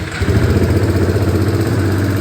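A 2015 KTM Duke 690 motorcycle engine, fitted with an aftermarket exhaust, idles with a steady, throbbing low rumble, loud and close, without any voices.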